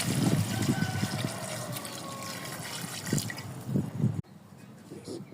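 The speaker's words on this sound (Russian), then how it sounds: "Добавляю воду." Water pours in a steady, close rushing stream into a kazan cauldron of seared meat, onion and carrot for pilaf cooked over a campfire, then cuts off abruptly, leaving quiet outdoor background.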